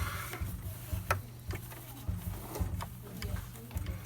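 A sewing machine back stitches at the top of a zipper, its needle ticking in short, close, uneven mechanical bursts over a low motor hum, with a few sharper clicks in between.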